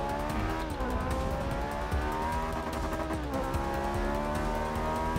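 A Ferrari 458 Speciale laps the Spa circuit, its engine note steady and loud throughout with rising and falling harmonics as it revs through the gears, no voices over it.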